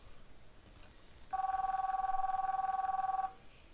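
An internal office desk phone rings on an incoming call from a branch line, a single steady electronic warbling ring of about two seconds, fairly clear over a quiet background hum.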